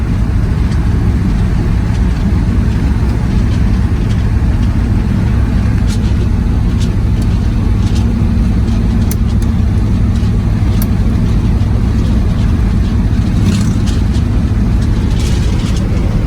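Steady road noise and engine drone from a 1966 Chevy Impala cruising at about 60 mph, with a constant low rumble and tire hiss and occasional faint rattles throughout.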